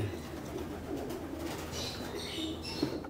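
Pigeons in a loft coo softly in short repeated calls over a steady low background hum, fairly close but quiet.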